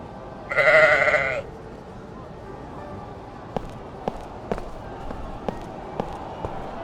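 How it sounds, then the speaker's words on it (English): A goat in the video game Crowns and Pawns gives one loud, close bleat near the start, followed by quiet ambience with a series of soft, regular taps. "This goat looks suspicious. Who knows what it's thinking? Bah!"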